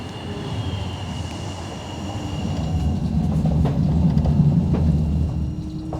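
A Sheffield Supertram tram-train rumbles along the track onto a curve after Meadowhall South, a steady low rolling roar that swells slightly midway with faint squeals above it, heard from on board.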